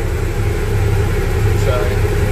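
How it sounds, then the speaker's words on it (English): The heater fan in a 1967 Unimog troop carrier blows with a constant, close, even rushing hum layered over a low engine drone, with no variation for the whole stretch. "The heater blows. You know, here's the heater fan."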